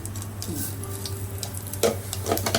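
Mustard seeds and a teaspoon of cumin sizzle and crackle in hot oil while tempering mamidikaya pappu, a steady fry broken by a few close pops and stirring sounds.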